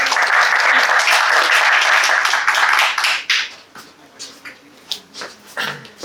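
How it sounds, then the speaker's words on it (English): A crowd applauds the presenters at a startup pitch event, dense sustained clapping for about three seconds before breaking into fading, uneven bursts of claps. "Can we have a huge round of applause for them, everyone?"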